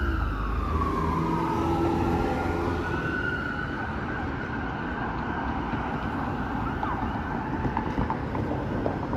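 Two ambulance sirens wail and sweep past on a city street in Toronto's Regent Park, crossing in opposite directions, their overlapping tones rising and falling over steady traffic rumble.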